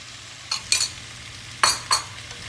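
Salmon and vegetables with sauce in a hot pan, a steady low sizzle under two pairs of sharp scraping stirs from a utensil, close and clear.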